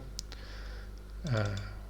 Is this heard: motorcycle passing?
no